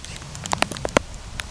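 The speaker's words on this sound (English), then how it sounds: "This is real rain." Real rain falls outdoors, sharp scattered drops tapping close on a surface over a soft steady patter, with no one talking.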